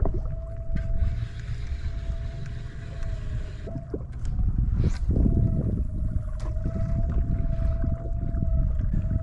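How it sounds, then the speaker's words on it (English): A kayak trolling motor strains against a strong tide while fishing, giving a steady whine under rushing water and wind noise, with a few knocks and splashes breaking in around the middle. "That motor is working pretty hard right now, and this tide is just absolutely intense."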